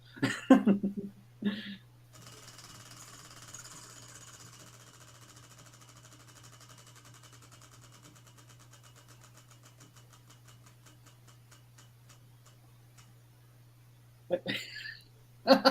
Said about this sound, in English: so please spin the wheel of fortune